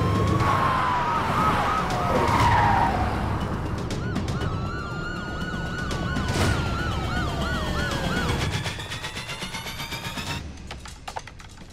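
Police car sirens wailing during a car chase in which two police cars pursue a jeep, several overlapping sirens sweeping up and down, loud and close, then fading as the vehicles pass.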